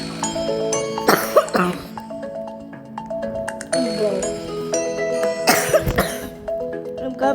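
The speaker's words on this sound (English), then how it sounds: "I'm coughing a little bit too much." Several coughs and throat-clearing bursts during casual play, loud and close, scattered between stretches of bright electronic game chimes and dings.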